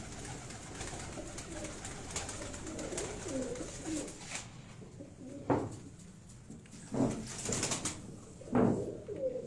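Pigeons coo in low, soft repeated calls, three or four distinct phrases under a faint background murmur.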